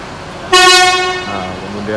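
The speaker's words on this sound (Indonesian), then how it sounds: "kemudian klakson" Bus horn sounds during a vehicle inspection at a bus terminal in West Sumatra: one loud, close honk that rings out and fades, with a voice speaking faintly around it.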